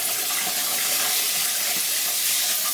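Water sprays from a shower head in a dense, steady hiss, loud and close, continuing without a break.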